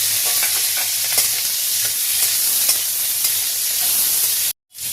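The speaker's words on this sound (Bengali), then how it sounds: "পনিরগুলো তেলে দিয়ে দিলাম, খুব হালকা করে জাস্ট একটু নাড়াচাড়া দিয়ে নেব" Paneer cubes frying in hot oil, a loud, dense, close sizzle that holds steady with faint stirring scrapes, ending in a sudden cut to silence near the end.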